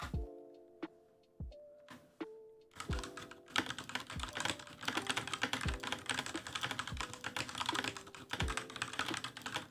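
Fingers tap on a computer keyboard, sparse keystrokes at first, then a dense, rapid clatter of clicks close by, with faint ticking tones underneath and no speech.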